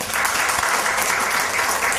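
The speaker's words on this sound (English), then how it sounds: "Let's give another round of applause to our poets." Audience applause for poets at a Distinguished Poet Series reading, a full steady round of clapping filling the hall for the whole stretch.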